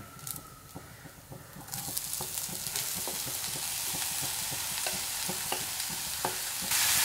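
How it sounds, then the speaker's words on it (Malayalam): Chopped beetroot sizzles in a hot pan for beetroot thoran, with a steady close frying hiss that swells louder after a couple of seconds and regular scraping stirs of a spoon against the pan; no one speaks. "ഇനി നമുക്കിതിലേക്ക് ബീറ്റ്റൂട്ട് മുറിച്ച് വെച്ചത് ഇട്ട് കൊടുക്കാം"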